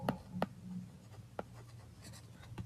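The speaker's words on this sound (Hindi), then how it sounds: "चलो लिख ही लेते हैं" Handwriting during an introductory macroeconomics lecture, quiet scratchy strokes and sharp taps of a pen marking a surface, irregular and close over a low background hum, with no speech.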